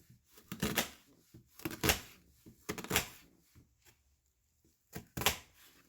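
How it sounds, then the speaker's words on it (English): A knife dices a medium-sized onion on a cutting board, giving clusters of quick, crisp chops separated by short pauses, near and fairly soft, with no talking. "So now this is us dicing the onion."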